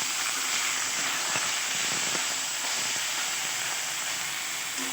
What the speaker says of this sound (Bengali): মাছটা হালকা একটু ভেজে নেব এপিট ওপিট করে, কিছুটা তেলের মধ্যে।